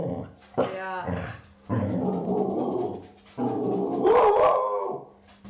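A dog at home howls and barks at other dogs passing on the street, giving loud, close, drawn-out wavering howls broken by short barks.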